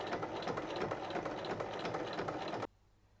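A sewing machine stitches fabric along its full length for a pouch, a steady close mechanical whir that cuts off sharply near the end, leaving a faint hum.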